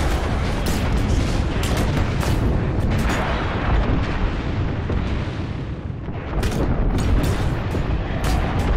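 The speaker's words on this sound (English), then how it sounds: "Oh, come inside, they're gonna drop the bomb." A bombardment in the Apex Legends video game: heavy, rumbling explosions and booming blasts roll continuously for several seconds, loud and close, with a brief dip before the barrage swells again.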